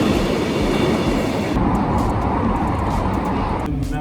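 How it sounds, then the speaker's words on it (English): A Bucharest metro train rides along with a loud, steady rumble and rattling wheel noise that stays close and continuous, with a brief drop in the higher hiss partway through. "we'll take the metro back home"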